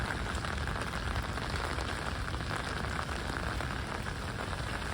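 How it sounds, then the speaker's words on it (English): Steady rain falls on a street in Queens, a continuous dense hiss of drops hitting pavement and surfaces, even and unbroken throughout. "I must be the only one who's walking in the rain."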